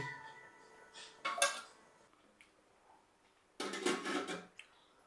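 A metal lid clatters onto a pot of fish curry in two distinct bursts of clanking and scraping, close by and fairly loud against an otherwise quiet kitchen.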